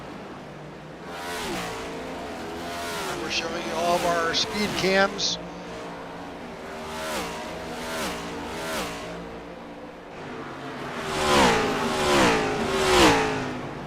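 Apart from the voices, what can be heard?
race cars rumbling by at Watkins Glen in a racing video game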